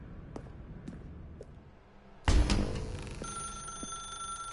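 Telephone ringing in The Stanley Parable video game, a sharp electronic ring that starts abruptly partway through and holds steady with a sustained tone after a few faint taps.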